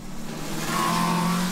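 A Formula Student race car from Eindhoven drives an autocross course, its engine giving a steady, loud, close drone that rises slightly in pitch as it accelerates, with no voices.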